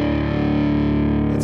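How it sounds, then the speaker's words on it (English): An electric guitar played through its neck pickup into an amp with the preamp cranked for heavy overdrive holds a single thick, distorted sustained chord, loud and steady, ringing alone. "I've got the preamp volume on the amp cranked all the way to give me some real heavy overdrive."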